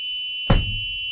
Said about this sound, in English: you're checking to make sure that the alarms are also working properly